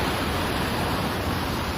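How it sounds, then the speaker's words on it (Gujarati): The flooded Tapi river in Surat rushes bank to bank in a dense, unbroken roar of water that stays loud and even throughout. "પાણી અત્યારે બે કાંઠે જોરદાર હાલ્યું જાય છે"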